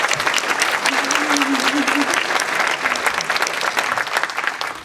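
A closing ceremony crowd breaks into a big, sustained round of applause, dense clapping filling the room loudly and evenly, with a few voices murmuring underneath.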